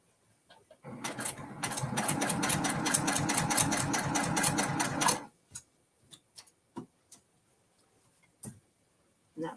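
A sewing machine stitches a mini quilt in a fast, steady run of close, loud needle strokes for about four seconds, then stops, leaving scattered clicks and handling taps.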